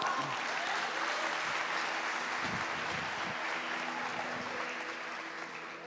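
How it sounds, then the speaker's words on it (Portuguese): A church congregation claps steadily for several seconds, a dense far-off wash of applause that slowly fades, with some low sounds from the room underneath. "aplaude, pode aplaudir."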